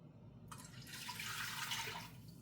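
Water pours steadily from a tap into a pot, a soft continuous rushing splash with no voices.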